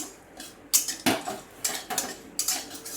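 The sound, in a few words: stirring dried chilli tempering in a pan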